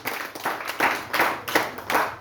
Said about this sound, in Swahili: Tupigie wamama makofi